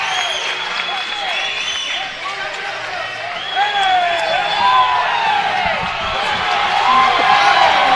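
A wrestling crowd in a college gym cheers and claps loudly and continuously, with shoe squeaks on the mat and a commentator's voice mixed into the roar.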